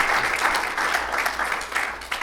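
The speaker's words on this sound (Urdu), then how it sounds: "تو اپریسیشن، تالیاں امین حیدر صاحب کے لیے." Audience applause for Amin Haider at an Urdu literary gathering, a short burst of many hands clapping in rippling waves, close and fairly loud, tapering slightly near the end.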